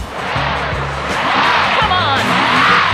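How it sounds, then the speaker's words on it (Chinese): A cartoon tractor stuck in a muddy bog starts up and revs, its engine note rising and wavering with squeal-like tones, loud and continuous. "好啦，继续启动拖拉机。"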